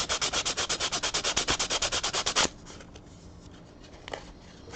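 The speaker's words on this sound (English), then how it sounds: "So it's like some light sanding here." Light hand sanding on a polymer clay sculpture sounds as a fast, even run of raspy scratching strokes, loud and close for about two and a half seconds, then stops, leaving quiet room noise and a faint tap.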